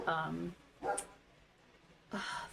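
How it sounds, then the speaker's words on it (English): A dog barks in short bursts, three separate barks spaced apart with quiet gaps between them, close and clear. "He was quiet until I turned this on, and then he starts barking his head off"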